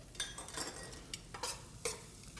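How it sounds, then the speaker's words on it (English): Shallots sweating in melted butter in a pan, with soft sizzling and a few light scrapes of a spoon stirring, several brief clinks of utensil against pan, quiet and close, no talking. "melt that butter and sweat the shallots for a couple of minutes"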